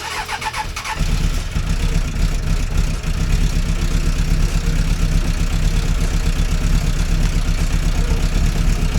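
A Suzuki Bandit 600 motorcycle engine, just after carburetor work, idles steadily near 1,000 rpm while warming up, a loud, continuous low-pitched pulsing with a brief catch at the start before it settles into an even rumble.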